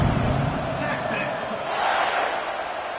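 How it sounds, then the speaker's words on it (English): Football stadium crowd at a college game buzzing with a loud, steady roar after a score, a dense wash of many voices with no breaks, under a commentator speaking. "this crowd is buzzing after that last score"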